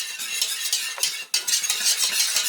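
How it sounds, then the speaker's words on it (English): Flour-thickened sauce for eggs mornay is stirred and scraped in a pan at a slow simmer, giving a close, continuous scratchy scraping with brief pauses and no talk. "just keep stirring and scrubbing"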